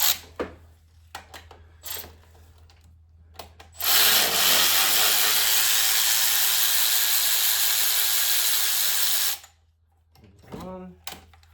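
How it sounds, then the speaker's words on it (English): An electric ratchet runs in one sustained buzzing burst of about five seconds on a Subaru EJ25 2.5 engine from a 2012 Legacy, with scattered clicks and brief handling noises before and after, and a voice speaking in between. "So now we'll switch over to our electric ratchet here because that's way easier."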